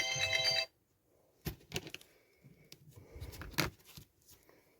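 A telephone ringing in a craft room, a brief loud ring at the start that stops, followed by quieter handling noises and shuffling of paper.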